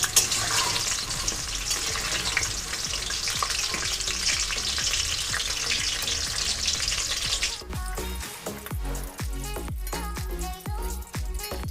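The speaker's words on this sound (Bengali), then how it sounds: "সেম প্রসেসে আমি এখানে সমস্ত চিকেন পকোড়াগুলোকে ভেজে নিয়ে" Chicken pakoras deep frying in oil, a loud, busy bubbling sizzle that breaks off partway through and gives way to a series of distinct knocks and clatters, with no speech.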